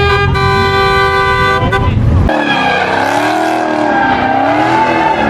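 Car horns blare at a late-night street car meet: a long sustained honk, a brief pause, then a fresh overlapping chorus of horns with engine noise, loud and close.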